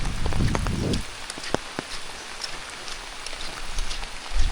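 Steady rain patters and hisses on nearby surfaces in Kep National Park, Cambodia, with scattered sharper drops ticking close by and a brief rumble of movement at the start.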